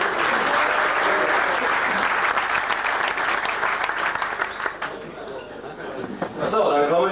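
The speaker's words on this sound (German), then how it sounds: "Ein Applaus denke ich" A crowd applauds loudly and continuously, the clapping thinning out toward the end before a brief final burst.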